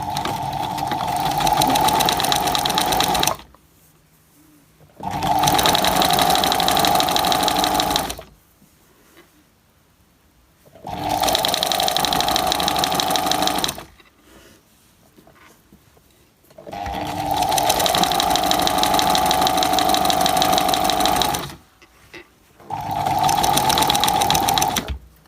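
A sewing machine stitches a paper journal cover at a short stitch length in five loud, close bursts of steady whirring and humming, several seconds each, separated by quiet pauses as the stitching stops, reverses and backstitches.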